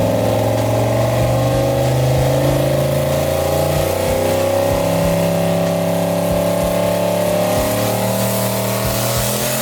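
A turbocharged 5.3 V8 in a Chevrolet Malibu with a stock bottom end and Holley EFI, running hard on a dyno: a loud, continuous close engine drone with a slowly shifting pitch and no pauses.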